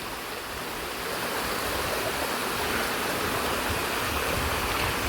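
The waterfall at Poomala Dam gives a constant, dense rush of falling water, loud and close, that swells slightly after the first second and then holds steady.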